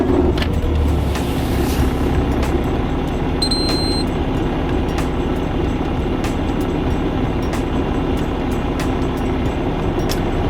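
A fleet vehicle idles after being started by an onsite mechanic, a loud steady engine rumble running unbroken throughout, close by with no talk and faint sharp ticks now and then.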